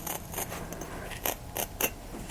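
Scissors cutting through dryer-damaged faux fur make a series of short, quiet snips and rasps, spaced irregularly in a hushed room.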